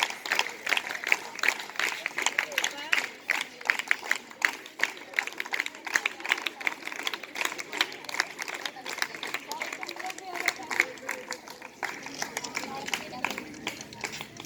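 Applause from children and an audience at a school Maths Day celebration, a steady dense patter of clapping that runs throughout, mixed with crowd chatter and bits of speech.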